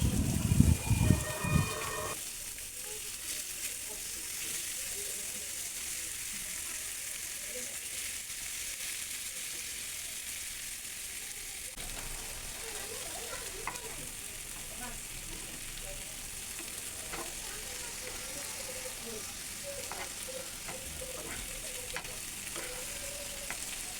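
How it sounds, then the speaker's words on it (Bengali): Eggs fry with turmeric and salt in oil in a pan, giving a steady, soft sizzle and crackle that runs throughout, with a louder clatter at the start and occasional stirring sounds. "প্যানে তেল দিয়ে একটু হলুদ আর লবণ দিয়ে ডিমগুলো ভেজে নিচ্ছি।"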